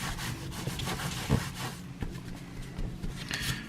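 Cloth rubbing finish into a knife sheath for a chef's cutlery set, a soft continuous scrubbing with a few light knocks and handling bumps, close and steady throughout.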